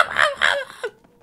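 A parrot in the Paper Mario: The Thousand-Year Door video game gives a sharp, close series of three squawking, bird-like calls, the last one shorter, and then falls silent.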